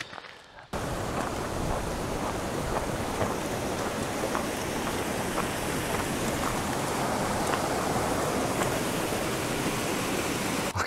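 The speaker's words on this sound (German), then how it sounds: "Links irgendwo hört man einen Bachlauf." A mountain stream rushes at night on an alpine trail in the Dolomites, making a continuous, even roar of flowing water that holds steady throughout.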